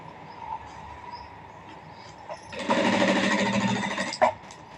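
A sewing machine stitching golden thread piping runs in a steady, close whirring burst for a couple of seconds over quiet room hum, then stops with a small clack.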